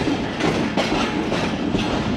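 The 38DN Fareed Express rolling into Kasur Junction, a loud close rumble of train wagons with rhythmic clickety-clack of wheels over rail joints, steady throughout.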